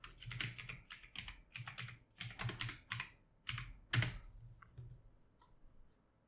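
Keys on a computer keyboard clatter as a password is entered, a close, quick run of crisp clicks in short bursts with brief pauses, then a few sparse taps trailing off.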